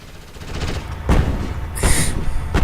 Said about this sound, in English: my rifleman fires on it with his gun